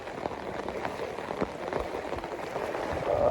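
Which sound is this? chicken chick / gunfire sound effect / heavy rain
heavy rain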